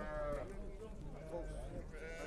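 Lambs bleat at a livestock market while people haggle over prices nearby; a few faint bleats sit under steady conversation and market bustle.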